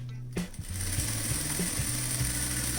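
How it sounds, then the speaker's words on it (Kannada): A sewing machine stitches a fall onto a saree, running loud and close with a steady buzzing drone and a low motor hum whose pitch shifts in small steps as the speed changes, with no talk over it. "ಆಮೇಲೆ ಆ ಸ್ಟಿಚ್ ಮಾಡ್ತಾ ಹೋಗ್ಬೇಕು ಈಗ ನಿಧಾನಕ್ಕೆ ಸ್ಟಿಚ್ ಮಾಡ್ಕೊಂಡು ಹೋಗೋದಷ್ಟೇ"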